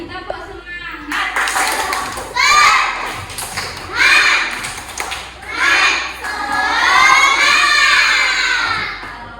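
Schoolchildren clap in rhythmic bursts during a classroom cheer, with several loud rounds of group clapping mixed with children's shouting and voices throughout.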